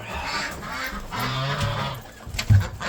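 Ducks quacking and honking on a homestead while being fed at dark chore time, a close, steady cluster of calls with a louder burst near the end and no talk.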